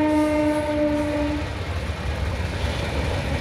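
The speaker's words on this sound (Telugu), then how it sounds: "ఇలా బయటకు రాగానే ట్రైన్ అయితే వెళ్తూ ఉంది" A passing train sounds a loud, sustained horn for about a second and a half, then its rumbling wheels continue close by.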